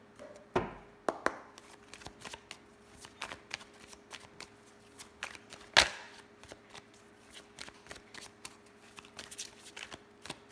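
A deck of Lenormand cards being shuffled by hand for a reading: soft riffling and flicking card noises with a few sharper slaps, steady and close, over a faint background hum.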